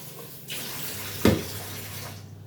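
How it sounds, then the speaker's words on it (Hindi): Water gushes from a tap as it is opened, starting with a brief splash and then running in a strong, steady stream close by. "इसे खोलूँगी जब भी पानी आएगा तेज। आ गया ना तेज।"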